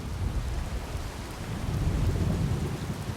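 Heavy rain pours steadily in a jungle while deep thunder rumbles low underneath, swelling slightly toward the end; a dense, continuous wash with no voices.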